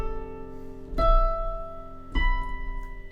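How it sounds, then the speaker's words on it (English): Piano notes struck one after another, each held and ringing before the next, stepping upward in fifths, clear and close with no voices. "Keep going up 5, and we end up with a pattern that sounds like this."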